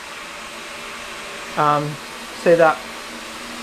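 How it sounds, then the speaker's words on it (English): A wet/dry vacuum runs steadily in a flooded house as a constant low whooshing hum throughout, with a person speaking briefly over it. "Still got the wet dryer vacuum cranking."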